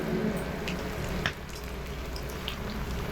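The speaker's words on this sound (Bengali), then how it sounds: "একটু লাল লাল করে ভাজবো, তাহলে খেতে আরো মুচমুচে হবে।" Semolina and potato pakoras deep-fry in hot oil, giving a steady, close crackling sizzle that runs unbroken through the whole stretch with no voices.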